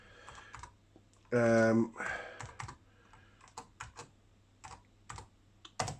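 Keys tapped on an MSX computer keyboard, a loose series of separate close clicks entering a command, with someone speaking briefly and a faint steady hum underneath.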